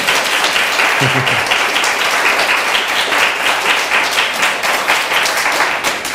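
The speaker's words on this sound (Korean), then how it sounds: "우리 모두 남성교회 아빠 삼촌들을 위해서 박수로 격려하면서 축복하겠습니다" A church congregation applauds the men's fellowship during a Sunday worship service, a dense, steady wash of many hands clapping that fills the room at constant loudness for several seconds.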